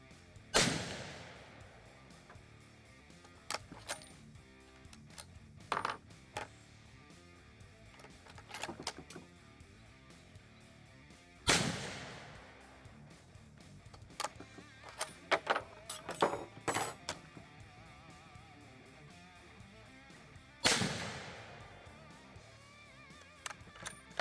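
A Vetterli rifle fires 6.5 Vetterli ammunition: three sharp, loud reports roughly ten seconds apart, each trailing off quickly, with faint clicks and clatter of the action handled in between.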